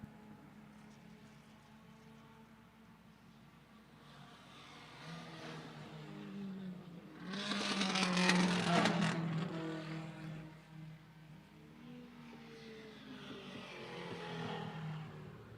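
Race cars lap Lime Rock Park, and one car swells past with a loud engine roar midway before fading, while other engines drone more faintly at a distance before and after.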